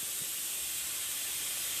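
A pressure cooker vents with a steady, loud hiss of escaping steam, continuous and unbroken throughout.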